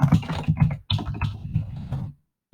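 Typing on a computer keyboard while entering a price range into Northstar MLS real-estate software: short bursts of quick, close clicks with brief pauses, ending in silence.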